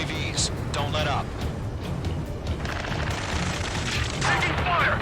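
Gunfire in the Ace Combat video game, rattling bursts and booms running under urgent shouted radio chatter throughout.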